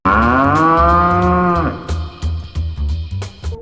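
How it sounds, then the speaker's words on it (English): A cow gives a long, loud, drawn-out moo that fills the first second and a half, followed by a few shorter, quieter bursts of lowing and rustle close by. "A little ice cream where you can meet the cow that made it"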